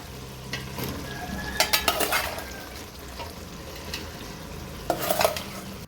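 Beans, carrots, potatoes and meal maker sizzle steadily in a pan for vegetable biryani while a utensil stirs and scrapes against the metal in a few short bursts, close up.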